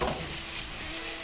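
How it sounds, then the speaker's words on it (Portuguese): A spice blend sautéing in a pan for basil lasagna, a steady close sizzle and hiss with faint stirring, heard alone. "enquanto refoga essa delícia desse tempero"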